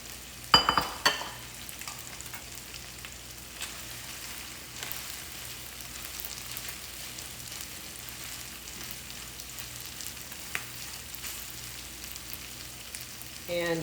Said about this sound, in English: Now I'm going to add in the broccoli flowerets